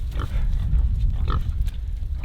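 Pigs grunt low and close on a farm, with a steady rumbling murmur and a couple of brief higher squeaky calls.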